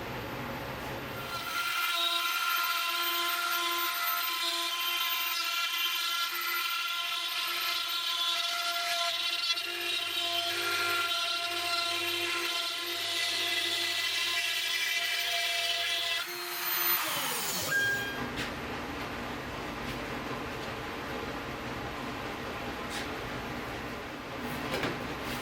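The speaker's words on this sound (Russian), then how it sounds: "Вот буду использовать 4-миллиметровую фрезу и обрежу точно по контуру." A CNC router with a 4 mm bit cuts along the outline of a board for a chessboard frame, a steady high whine with a low grinding layer for about fifteen seconds, then winding down to a quieter hum.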